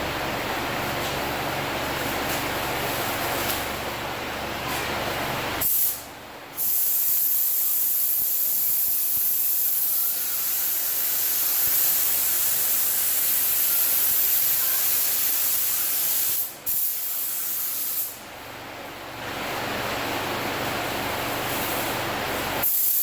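A spray gun puts base coat over primer on a 2010 Acura TL, with long, steady passes of loud airy hiss broken by two brief pauses where the trigger is released, and no talking.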